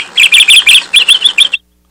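A bird chirps in a quick rhythmic run of about a dozen bright, loud, close tweets, then falls silent.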